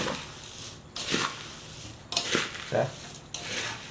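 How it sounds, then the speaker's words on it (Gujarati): Bombay bhel is tossed and mixed in a bowl with a spoon, producing several separate scraping, rustling strokes with short pauses between them, close and moderately loud. "બધા એમાં મિક્સ થઈ જાય ને એ રીતે સરસ મિક્સ કરી દેવાનું"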